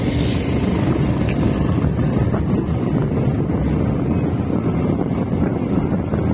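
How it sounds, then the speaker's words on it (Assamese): Cold wind blows hard across a high mountain pass in Arunachal Pradesh, a continuous, loud, low roar buffeting the microphone with no pauses and no voices. "সেইটো পাহাৰত তেতিয়া একদম পুৰা ঠাণ্ডা বতাহ মাৰি আছে"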